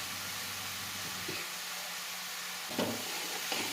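Bottle gourd sautéing in a pan for sambar gives a steady, dense hiss of frying, with a couple of faint stirring scrapes near the end.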